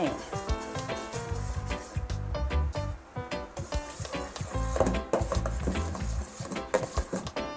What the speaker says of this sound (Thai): เราก็คอยคนไปนะคะกะทิจะได้ไม่ไหม้